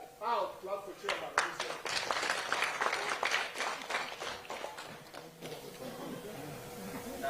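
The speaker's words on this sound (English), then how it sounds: "Clap for chairman." Applause for the chairman at a parliamentary committee hearing, clapping that starts after a brief voice, swells for about four seconds, then tapers off as talk resumes.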